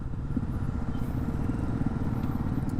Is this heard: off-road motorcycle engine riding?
yes